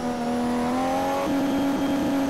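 Race car engine held at full throttle in a racing game, a loud, steady tonal drone that rises slightly in pitch and shifts once midway, as if through a gear change.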